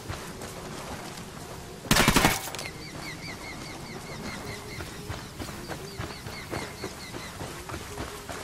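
Automatic gunfire erupts in Tom Clancy's Ghost Recon Wildlands during an assault on a lodge: one loud, dense burst of rapid shots, then sporadic pops and cracks scattered through a busy game soundscape.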